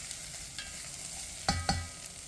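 Vegetables for a carrot soup sauteing in a pan, a soft steady sizzle with light stirring, broken by two sharp clattering knocks of a utensil against the pan near the end.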